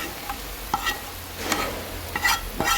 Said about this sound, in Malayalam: നമ്മൾ മുളക് വറുത്ത് വെച്ചേക്കുന്ന മുളക് ഇതിലേക്ക് കൊടുക്കും